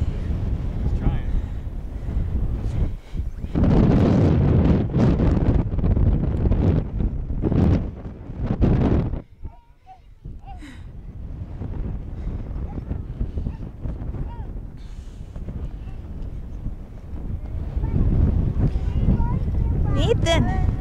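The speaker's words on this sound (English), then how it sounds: "it's windy, as you can probably hear" Strong wind at White Sands National Park gusts and buffets the microphone over the open sand dunes, loud and continuous, dropping briefly before surging again, while people talk through it.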